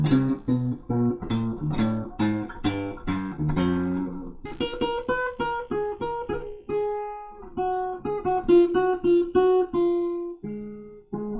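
Rhythmic, percussive plucked notes with a slapping, twangy bass attack, played in quick repeated bursts on a homemade tin cigar box guitar.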